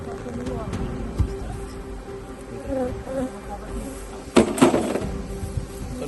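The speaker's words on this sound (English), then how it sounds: "So many bees." A swarm of bees hums around a hive in a continuous close buzz, with brief louder swells as individual bees pass near, while a person talks over it.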